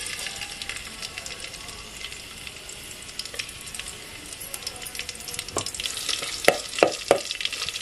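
Garlic dropped into hot oil, cooked on a wood-fired stove, sizzles with a steady faint hiss, then a few sharper crackles and pops near the end.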